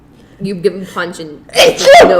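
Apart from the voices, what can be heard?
sneeze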